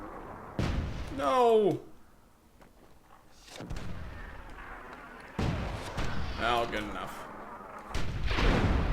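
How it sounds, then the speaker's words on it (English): Explosions in the video game Myth II: Soulblighter, several loud booming bursts spread through the clip, with people speaking over and between them. "that will touch off a secondary explosion"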